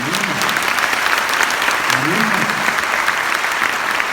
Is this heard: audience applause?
yes